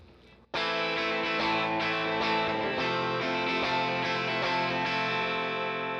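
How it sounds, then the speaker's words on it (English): An electric guitar through an edge-of-breakup amp simulation in $100 software, strummed hard and ringing out with rich, gritty sustained chords and a few restrikes, loud and alone. "And the harder we play, the more distorted it gets."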